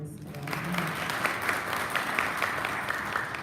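An audience gives a speaker a round of applause at a caregiving community event, a burst of clapping from many hands that stays dense and even across the moment.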